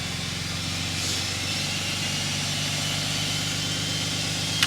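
A Kubota tractor engine idles steadily while warming up on a snowy gravel driveway, a constant close rumble with a smooth hiss and no voices.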